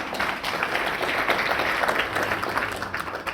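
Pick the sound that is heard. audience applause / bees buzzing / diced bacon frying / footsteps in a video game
audience applause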